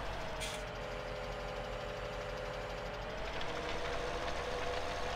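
A tractor engine pulling a cultivator in Farming Simulator 17 (the 'fence' tractor, presumably Fendt), a steady droning diesel hum under load with a rising pitch toward the end, continuous and fairly close.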